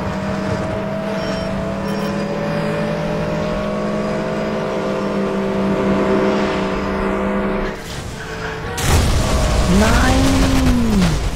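A car in Need for Speed The Run on the prairie stage runs at full throttle, a steady engine drone that shifts pitch, then bursts louder with a rising and falling whine near the end.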